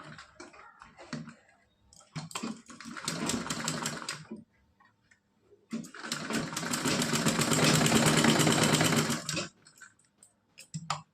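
A sewing machine stitches net fabric for a dress in two bursts, a shorter run and then a longer, louder stretch, with faint clicks and handling noises in the pauses between them.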